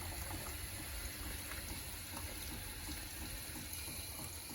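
Steady rush of water running from a shower hose into a children's water park being built in a garden, a constant close hiss with no breaks.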